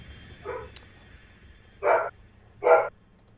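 A dog barks three times, a single soft bark followed by two louder ones, heard from across a quiet room with no talking.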